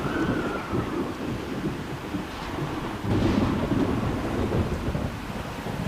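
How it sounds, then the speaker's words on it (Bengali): A thunderstorm with a deep, rolling rumble of thunder over steady rain and some wind, the roar swelling louder about halfway through. "মুহূর্তের মধ্যে শুরু হয় প্রচণ্ড ঝড়"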